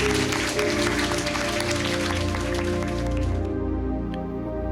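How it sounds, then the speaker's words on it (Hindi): A church congregation claps loudly in a sustained burst of applause, mixed with steady background music that fades near the end. "एक जोरदार ताली उस परमेश्वर के लिए बजाएंगे।"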